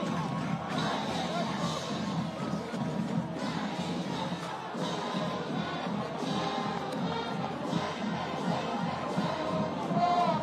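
A dense, steady roar from the Liberty crowd at a Brophy vs. Liberty high school football game in Arizona, with rising cheers and shouts throughout and a voice talking over it.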